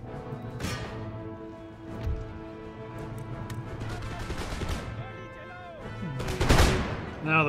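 Musket volleys fired by rank in Empire: Total War, a battle with Swiss lines and dervishes: scattered crackling shots build into a dense burst near the end, with a busy battlefield din underneath.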